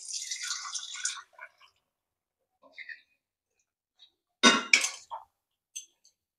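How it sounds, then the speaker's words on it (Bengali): Water saved from boiling chickpeas is poured into a pot of chana masala, with a brief soft splashing pour at the start followed by scattered faint drips and clinks, then a short louder splash near the end. "এবার আমরা আগে থেকে ছোলা সিদ্ধ করা যে জলটা রয়েছে সেটা দিয়ে দিচ্ছি।"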